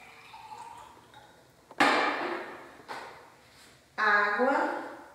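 Water poured into a glass container during a classroom science demonstration of mixing, two splashing pours with a gurgling fill rising in pitch, with someone speaking before them.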